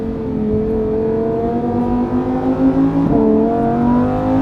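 A Lamborghini Huracan EVO on a track takes a corner at full speed, its engine holding a loud, steady high-revving drone from inside the car, the pitch dipping briefly and then climbing again.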